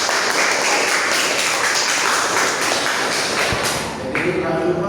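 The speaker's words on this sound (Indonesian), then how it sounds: "Tepuk tangan semua." Students in a classroom clap their hands together in a dense, steady burst of applause that lasts several seconds before tapering off, with some talk mixed in.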